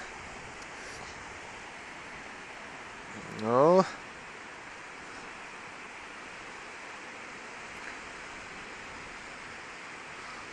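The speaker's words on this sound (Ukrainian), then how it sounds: "О, зараз хвиля дійде чи не дійде." A steady roar of ocean surf during a rising tide fills the clip, waves washing in continuously onto rocks, with a brief spoken word partway through.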